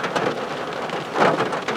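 Rain falls steadily and heavily with a dense, continuous hiss and patter close by, near an office park car park, with no voices.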